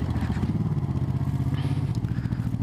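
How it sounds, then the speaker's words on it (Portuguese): Motorcycle engines rumble and throb nearby, a steady pulsing drone with some clatter on top, no talking. "Parece que tá com bastante moto ali."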